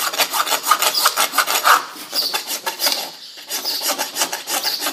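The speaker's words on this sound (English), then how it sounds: "then you just come over with the rasp and" A farrier's rasp smooths a horse's hoof in close, rhythmic back-and-forth strokes, each a coarse scraping rasp, repeating evenly with brief gaps and no talk.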